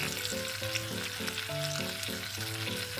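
Pork chashu, wiped of sake lees, sizzles fat side down in a frying pan over low-to-medium heat, a steady close crackle and hiss throughout, with soft background music playing under it.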